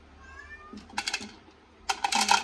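A cat gives one drawn-out meow, followed by short bursts of crinkly rattling and tapping close by.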